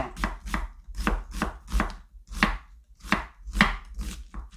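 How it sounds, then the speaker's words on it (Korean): A knife chops onion on a cutting board for soft tofu stew, about ten crisp, evenly spaced strikes, close and clear with no talking. "양파는 좀 종종 썰어주세요"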